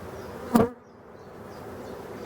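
Honey bees buzz low and steady around an opened beehive, with a brief loud burst of noise near the start before the hum settles back.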